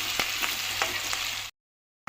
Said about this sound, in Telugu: ఉల్లిపాయ ముక్కలు, పచ్చిమిరపకాయలు ఇవి బాగా వేపుకోవాలి